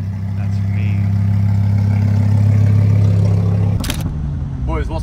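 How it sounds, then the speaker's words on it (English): Lamborghini Huracan engine rumbles loudly with a deep rising rev for several seconds, then cuts off abruptly, followed by a sharp burst and people talking nearby. "This Lambo Hurricane is the craziest sounding car in mankind."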